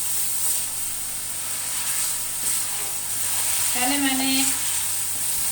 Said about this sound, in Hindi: अब ये अंडे डालकर भी इसे 5 मिनट मज़ीद भूनना है